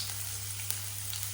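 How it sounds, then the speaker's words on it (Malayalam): Onions frying in a pan give a steady, close sizzle with soft crackles and one brief pop, continuous and alone for the short moment. "ഉള്ളി ഇട്ട് കൊടുക്കാം."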